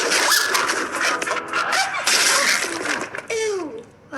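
Clifford, the giant cartoon red dog, lets out a big wet, splattering sneeze amid a busy scene, followed by children's voices speaking nearby.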